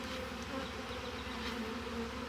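Honey bees buzz steadily around an open beehive during colony splitting, a dense continuous drone close by with no talk over it.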